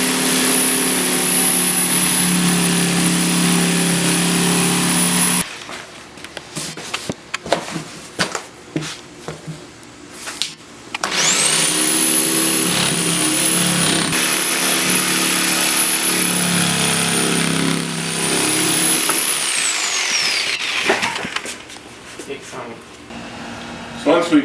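A power saw cuts an onyx shower wall panel in a garage, a loud sustained high whine with a harsh rasping body, running for several seconds, pausing amid clatter, then whining again for a long stretch.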